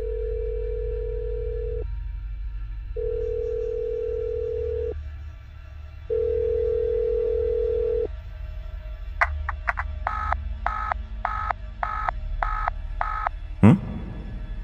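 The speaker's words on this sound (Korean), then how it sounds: "몇 번인가 신호음이 들리더니 갑자기 끊겨버렸다" Tones from a mobile phone call: a steady ringback tone repeating in long beeps, then a quick run of dialing-style tone bursts, ending with a short sharp click as the call cuts off.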